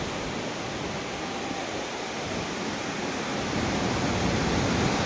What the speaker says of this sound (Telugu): ఇది కొండల మధ్యలోంచి వస్తుంది కొండల కిందగా